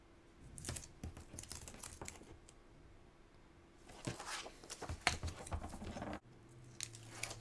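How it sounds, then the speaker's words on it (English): Tape being placed and pressed onto a cardboard craft Valentine's mailbox, with soft crinkling, tapping and scratchy rubbing in scattered bursts, quiet and close. "So let's go ahead and place that tape."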